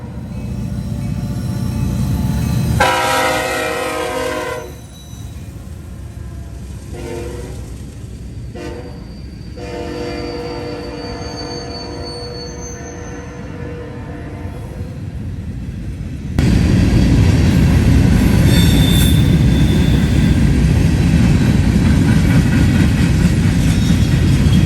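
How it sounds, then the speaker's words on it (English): CSX empty pipe freight train B520 heading eastbound through Bellefontaine, Ohio, led by UP's Western Pacific heritage locomotive: loud rolling rumble of railcars with a horn blast early on, and the roar rising sharply as the train passes close. "As needed empty pipe train B520 heads eastbound through Bell Fountain, Ohio at QI 140. With a surprise, UP's 1982 Western Pacific Heritage Unit in the lead."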